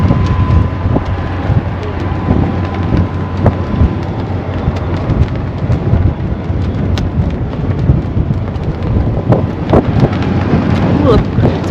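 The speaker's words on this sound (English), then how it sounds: "it's breezy out here and the wind is chilly" Wind blowing steadily over a sailboat at sea, a constant broadband rush with gusty buffeting against the microphone, loud and close throughout.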